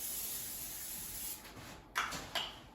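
Cooking oil spray hisses onto an air fryer basket in a kitchen, with a steady faint spray for over a second and then two short, sharper spritzes.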